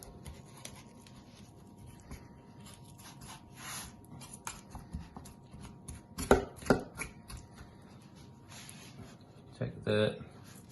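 Knife working along the bone of a leg of lamb during home butchering: soft, irregular cutting and scraping with a few sharper clicks and taps of blade on bone, close but quiet, with someone talking.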